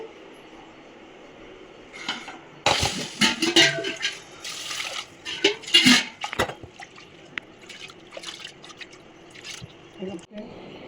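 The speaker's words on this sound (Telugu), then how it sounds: "పప్పు కొంచెం కడుగుతానండి." Toor dal lentils being washed in water: irregular sloshing, splashing and dripping bursts, close and fairly loud, with quiet gaps between rinses.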